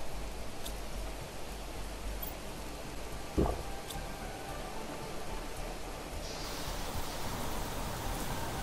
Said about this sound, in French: il pleut bien comme il faut